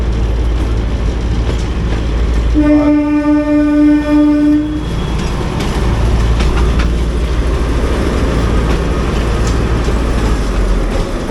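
A narrow gauge passenger train at Bilimora station sounds a loud, steady horn blast for about two seconds, set against continuous heavy rumble and platform noise.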